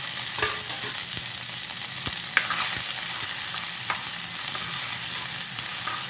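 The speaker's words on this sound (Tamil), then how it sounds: "அது மேலேயே இந்த சுண்டைக்காய்களையும் போட்டு நல்லா வணக்கிக்கலாம்" Turkey berries sauté in oil with shallots and curry leaves, producing a loud, continuous, dense sizzle with a few faint stirring clicks, close up and without any voices.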